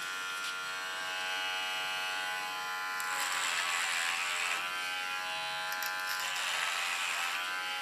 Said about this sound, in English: this is my latest clipper of Kione